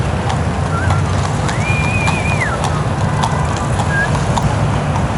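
Horse hooves clop past in Central Park, New York City, at night, mixed into a loud, steady wash of outdoor noise, with a brief whistle-like tone rising above it.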